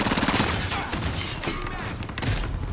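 Rapid shotgun fire in Call of Duty: Warzone, a busy string of loud gunshot bursts over dense game noise, with a heavier blast near the end.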